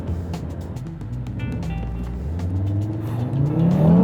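A car with a seven-speed automatic transmission accelerates in sport mode, its engine note rising steadily and growing louder from inside the cabin over about four seconds.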